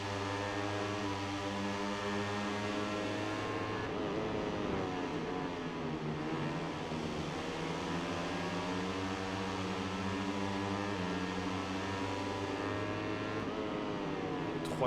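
Moto3 racing motorcycle engines in the MotoGP 18 video game, a steady high whining drone with shifting pitch as the bikes rev and change gears, constant and fairly loud.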